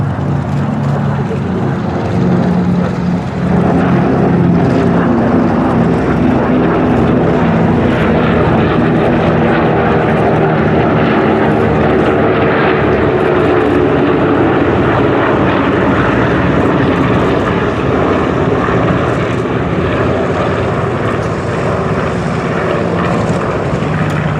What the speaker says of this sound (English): DC-6 will be splitting away for its solo performance.